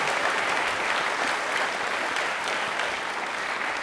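An audience on a televised general knowledge quiz show breaks into applause, a dense, even wash of many hands clapping at once that holds steady throughout without talking.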